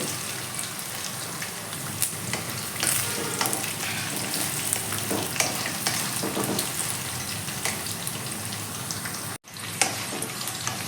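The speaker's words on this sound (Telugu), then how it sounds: "మిర్చి కూడా బాగా వేగిపోయింది" Ripe red chilies fry in hot oil for a pea and chili rice dish, giving a steady, close, even sizzle that fills the whole stretch and briefly cuts out near the end.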